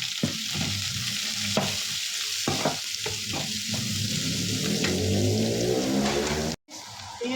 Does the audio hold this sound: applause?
no